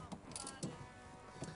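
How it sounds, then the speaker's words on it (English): A ratchet and end wrench tighten a 5/8 bolt on a harness mount in a Polaris RZR, giving a steady, soft mechanical clatter with a few quick clicking strokes close by. "on this side was your 5/8, both ratchet and end wrench to tighten it up"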